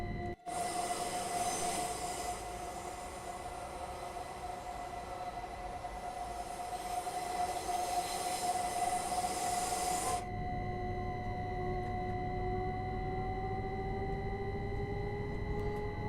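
A modded Electrostar electric train runs in Train Sim World with a steady rumbling roll and a high whine. A broad hiss drops away partway through, leaving the motor hum and a tone that slowly bends in pitch.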